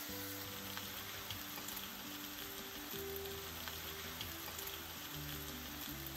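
Mushrooms frying in a pan for a frittata, with spinach about to join them, give a steady close sizzle throughout, with low hum-like tones underneath and no voices.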